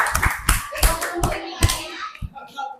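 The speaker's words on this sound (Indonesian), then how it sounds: "Beri tepuk tangan buat teman kalian." Children clapping for a classmate in a classroom, a burst of brisk, uneven hand claps with some kids' voices mixed in, fading toward the end.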